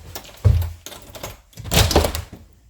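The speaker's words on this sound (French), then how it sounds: "on va essayer ensemble d'ouvrir cette magnifique porte" A door to a cellar apartment is opened, with a solid thump and clatter near the start followed by a longer scraping, rattling stretch as it swings open, heard close with no voices.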